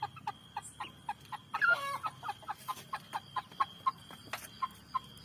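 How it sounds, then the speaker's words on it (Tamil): Chickens on a small home poultry farm cluck in a steady, repeated rhythm, with a brief louder squawk partway through, close by over a low background hum. "சின்ன வீட்டுக்களவான ஒரு கோழி ஃபார்ம் வச்சிருக்கிறேன்."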